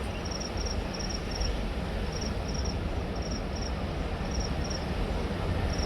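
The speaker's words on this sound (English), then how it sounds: "you hear the cricket making noise" Crickets chirp at a quiet rural spot in Ghana, short high trilled pulses repeating in small clusters over a loud, constant rushing background noise.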